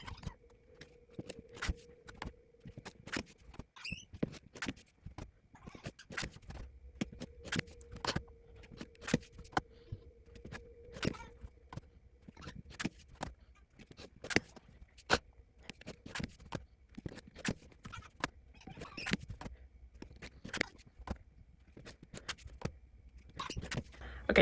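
Fabric half square triangles are trimmed to 4.5 inches at sped-up pace, producing rapid, dense, quiet clicks and snips with light scraping, close by and with no talk.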